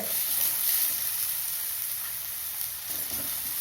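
Chopped onions sauté in oil in a pan for an egg and coconut milk gravy, giving a steady, close, fairly loud sizzle that hisses evenly throughout without a break.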